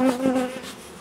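A honeybee colony buzzes during a beehive inspection, a close, steady humming drone with a clear pitched tone and slight wavering, heard alone for about a second.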